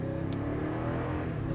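A 2014 Toyota Tundra Platinum CrewMax 4x4 pickup accelerating on a bumpy road, its engine roaring loudly and steadily under cabin rumble.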